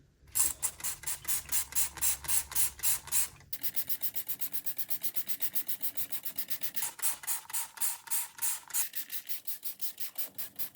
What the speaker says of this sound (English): spray it down liberally with your degreaser